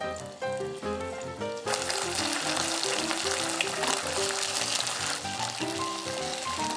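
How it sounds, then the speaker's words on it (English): Pork belly slices frying in an oiled pan for Sichuan twice-cooked pork, a bright crackling sizzle under steady background music, close and fairly loud, no talking. "Arrange the pork belly slices in the pan."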